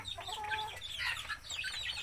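Hens clucking softly and repeatedly, two of them sitting on one nest, a few birds murmuring close by with a low background hum, no speech.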